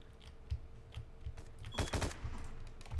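Gunfire in the War Inc shooter game: bursts of rapid automatic shots with one dense volley near the middle, moderately faint against game background noise, and no talking.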